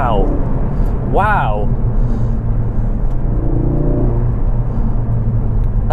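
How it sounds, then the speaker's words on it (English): Tuned Ford Focus RS engine under a quick stab of throttle, a deep rumbling rev that rises sharply and settles into a steady cabin drone, with a voice exclaiming over it. "That was literally just a stab on the throttle."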